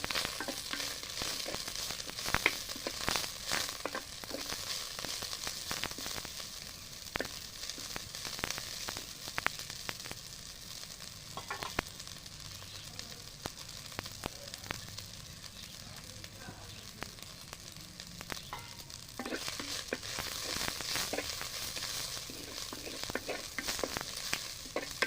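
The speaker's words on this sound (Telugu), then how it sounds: "ఒక నాలుగు ఎల్లిపాయలు వేసుకోవాలి పొట్టు తీసినవి నూనెల గోడి మంచిగా ఉడకపెట్టుకోవాలి" Peeled garlic cloves frying in oil in a pan, a continuous loud sizzle and crackle with frequent sharp pops and stirring scrapes throughout.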